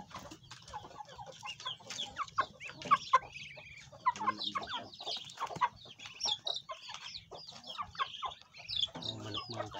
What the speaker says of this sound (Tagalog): Manok mga kaidol no.